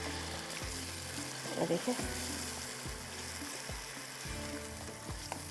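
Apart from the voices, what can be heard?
stirring spices into cooking saag in a pan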